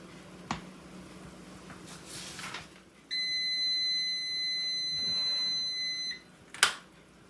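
A kitchen timer sounds a steady electronic beep tone for about three seconds, followed by a sharp short beep, amid quiet kitchen background noise.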